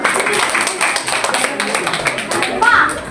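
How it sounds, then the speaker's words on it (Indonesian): A class of students claps in a classroom, a near, uneven patter of many hands with a voice and other talk mixed in toward the end. "Tepuk tangan."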